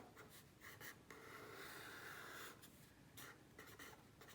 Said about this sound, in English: Let's start by writing down that formula.